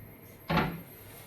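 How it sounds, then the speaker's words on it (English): A champagne-colored modern kitchen wall cabinet door is pushed back and shut, giving a single short, close thump in an otherwise quiet room. "you just need to push down, push back, and then close the door."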